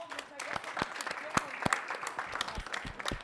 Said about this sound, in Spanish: Les pido un aplauso para el invitado